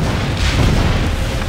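A large explosion in the Ace Combat: Assault Horizon combat flight game booms as a dense, sustained roar filling the short clip, loud and close with no talking.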